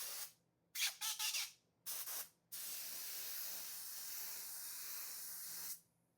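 Dessert glaze is sprayed from a spray gun in a pastry kitchen: two short hissing bursts, then one long steady spray of about three seconds, close and loud, with no talk.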